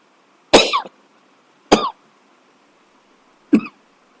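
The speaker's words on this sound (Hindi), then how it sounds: "इतनी खांसी आ गई आपको? कुछ खांसी हो गई आपको?" Three separate sharp coughs, spaced irregularly with quiet between them, fairly close and loud.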